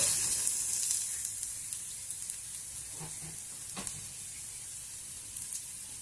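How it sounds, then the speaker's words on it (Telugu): Onions fry for oats upma in a pan, a steady bright sizzle that starts loud and settles to a softer hiss, with a few faint clinks of stirring, close by and without talk. "ఇప్పుడు వేగినాయి ఉల్లిగడ్డలు"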